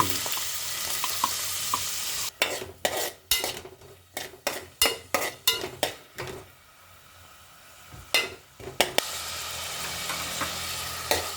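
Chana dal frying in ghee on a stovetop, with a steady sizzle broken by a run of sharp spoon-against-pan scrapes and stirs, loud and close, with no talking.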